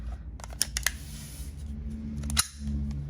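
A sand-coloured CEONIC SIG SAUER P320 blank pistol fires a few sharp, loud cracks in close succession, each one a short snapping report over a low steady background hum.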